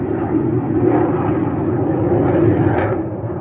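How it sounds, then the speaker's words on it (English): Two F-18 fighter jets passing overhead, a loud continuous broadband roar that swells slightly and holds steady for a few seconds, with no voices. "that was a two-ship of F-18s"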